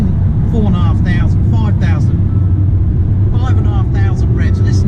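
A Hyundai i30 SR engine revs high in third gear, a strong, steady low drone with buzzy harmonics inside the cabin, while someone talks over it throughout.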